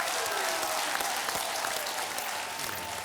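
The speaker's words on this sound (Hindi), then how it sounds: "फैंटास्टिक तालियां आमिर के लिए" Studio audience applause for actor Aamir Khan on the Indian TV quiz show 10 Ka Dum, a dense, steady wash of clapping that holds at even volume for about three seconds.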